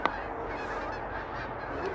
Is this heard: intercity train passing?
no